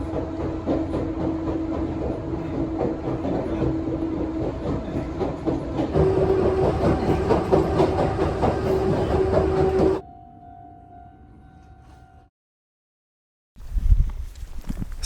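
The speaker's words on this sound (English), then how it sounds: "trying to board a local train" A local train runs on rails through rural Japan, a loud steady rumble with rhythmic wheel clatter and a sustained tonal whine for about ten seconds, then a quieter hum, a brief silence, and a final burst of rumble.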